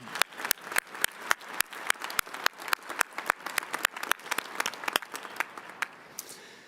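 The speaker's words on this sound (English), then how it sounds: "Please join me in giving them a warm round of applause." Audience applause at a winter university commencement ceremony, a steady crowd of clapping with sharp individual claps standing out, close and continuous, thinning slightly toward the end.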